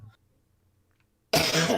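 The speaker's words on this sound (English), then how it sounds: "I'm still dodgy with my voice and coughing every 2 seconds" A single sharp cough or throat-clear bursts in close to the microphone after a near-silent pause, loud and abrupt.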